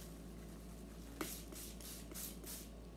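A spray bottle is pumped several times in quick succession, each squirt a short breathy hiss, close by in a quiet room.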